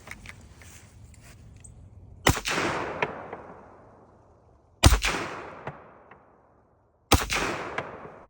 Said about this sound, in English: I'm gonna give it a couple rounds.